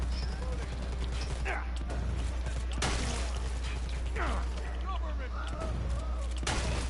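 Gunfire in a shooter video game: a few sharp, separate shots stand out over a steady hum of background noise, with a person talking through it.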